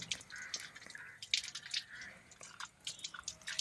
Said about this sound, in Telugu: అది తీసుకున్న తర్వాత కడుక్కొని తిందామని కడుక్కుంటున్నాను